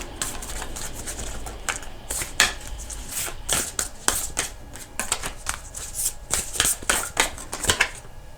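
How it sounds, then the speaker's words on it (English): A Moonology oracle card deck is shuffled by hand, producing repeated crisp riffling and slapping bursts in an irregular rhythm, close and fairly quiet, with no voice over them. "we're going to pull from the Moonology deck here"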